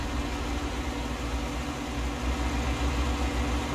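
An engine idles steadily, a low continuous rumble with even droning that holds at constant loudness throughout, close by and with no one talking.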